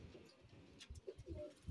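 Soft, low pigeon coos repeat in short throaty bursts, close by and faint, with a couple of rustling sounds in the background, at a pigeon sale fair.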